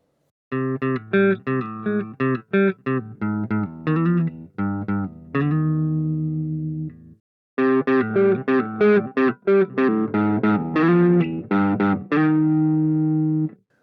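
Electric guitar played through a gritty, raw, amp-like overdrive pedal on a Spark amp, with choppy strummed chords and sustained ringing notes, a short gap, then more driven strumming.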